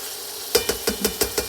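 Ground beef frying in a hot wok with olive oil and butter, a steady sizzle under a quick series of about six rhythmic scraping stirs from a utensil, close and clear, no voices.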